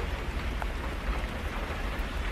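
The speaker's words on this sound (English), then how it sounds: "So it's raining if you hear that." Rain falls steadily outdoors during a spring shower, a dense continuous hiss of drops on surfaces, close and even throughout with no talk.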